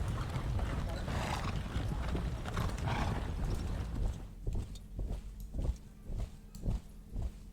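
Horses in a Thirty Years War wargame at the Battle of Breitenfeld move in a dense rumble of hooves, which gives way to slower, distinct clip-clop hoofbeats at moderate volume.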